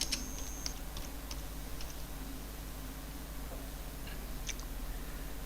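Quiet, scattered keystrokes tap on a computer keyboard in short irregular bursts over a faint steady background hum.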